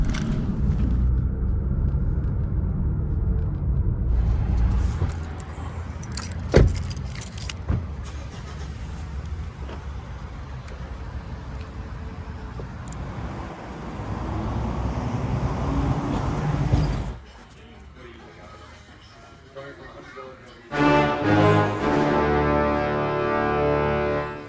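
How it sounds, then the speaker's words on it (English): A new Mazda car is started and driven. Keys jangle and the engine turns over, then a steady motor and road rumble runs, with a brief quieter stretch before the engine noise returns. "Oh, we get to try out the new Mazda."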